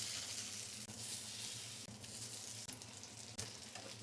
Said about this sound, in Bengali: সাদা তেল দিয়ে ভেজে নেব।